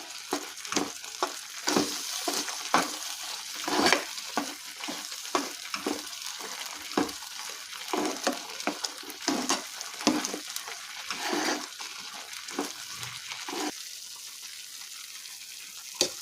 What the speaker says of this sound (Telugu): ఈ పేస్ట్ అంతా కర్రీ పెట్టేలాగా బాగా మిక్స్ చేసుకోవాలి